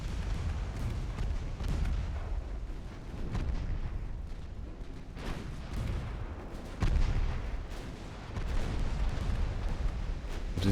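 Naval gunfire from 15-inch guns, with deep booming salvos recurring every couple of seconds and the strongest blast near seven seconds, all over a constant low battle rumble at moderate level.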